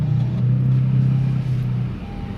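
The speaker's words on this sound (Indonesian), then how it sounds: "tekan engine start button di sebelah kiri sini untuk menyalakan mesinnya" A 2014 Honda City E sedan engine starts by push button and settles into a steady, smooth low idle hum, close by and alone.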